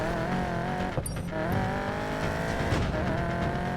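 Engine of a Mustang race car in Need for Speed Payback, a loud, steady, rising and falling drone with brief tire squeals and shifts throughout, no talking.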